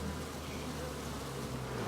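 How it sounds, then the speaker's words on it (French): A honeybee colony gives a steady, dense buzz from many bees, close and continuous, with no talk; the colonies are being fed sugar in a poor honey season. "on est obligé de nourrir des colonies d'abeilles"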